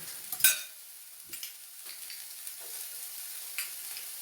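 A soft, steady sizzle from a pan cooking a Mediterranean grilled cheese, with a few light clinks and stirring taps over the quiet frying, no speech.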